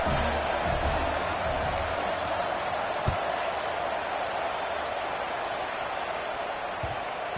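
A dense stadium crowd roars steadily through a Rutgers vs Colorado college football video game, one unbroken wash of noise with a faint thump partway through.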